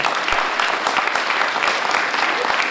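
Audience applause at a school inauguration ceremony, a steady, dense clapping from a crowd that holds at an even level for the whole stretch without letting up.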